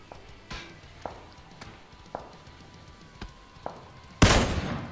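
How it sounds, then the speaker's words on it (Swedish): Gunshots in a PUBG-style battle royale game, several sharp distant shots spaced about a second apart, then one louder close blast near the end, over quiet background. "Oj, skott."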